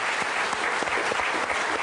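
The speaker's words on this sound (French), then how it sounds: "je demande d'applaudir les prêtres" Studio audience on a French Sunday television show applauding priests, a dense, steady burst of clapping from many hands, loud and continuous for the whole short stretch.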